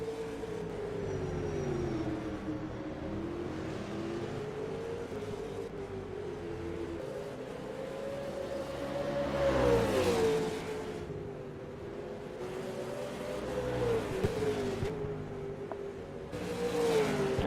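V8 Supercar race car engines drone in rFactor 2 at the Tailem Bend circuit, a loud sustained engine note rising and falling through gear changes and corners, continuous with no talk over it.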